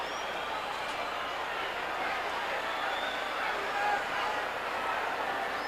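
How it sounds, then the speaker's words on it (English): Classic wrestling arena crowd roars and cheers for Dusty Rhodes, a dense sustained wall of noise that swells slightly midway, distant and broad with no clear individual voices. "Listen to this crowd as they charge Dusty Rhodes up."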